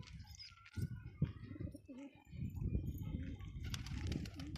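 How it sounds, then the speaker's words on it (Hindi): Soft coos from a domestic pigeon repeat in the foreground, with a brief burst of wing flapping and some low background murmur. "ये जो है ये 100 रुपये का है कबूतर, अभी ऊपर चला गया"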